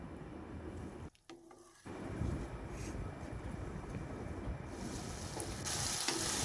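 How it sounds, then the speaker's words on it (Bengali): Ground spices frying with tomato in a pan for egg curry make a soft, steady crackling sizzle, dipping briefly near the start, then resuming at an even, quiet level. "একে একে আমি গুঁড়ো মশলাটাও এর মধ্যে দিয়ে দেবো, দিয়ে এবার ভালো করে কষিয়ে নেব"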